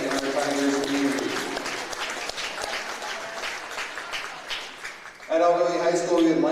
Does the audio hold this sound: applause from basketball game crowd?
yes